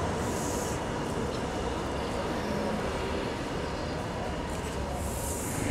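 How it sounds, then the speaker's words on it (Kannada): Mantralayam railway station ambience: a broad, continuous roar of a train and platform noise, loud and steady throughout, with no clear speech. "ಮಂತ್ರಾಲಯಂ ರೈಲ್ವೆ ಸ್ಟೇಷನಲ್ಲಿ ಇದ್ದೀವಿ ಎಲ್ಲರೂ"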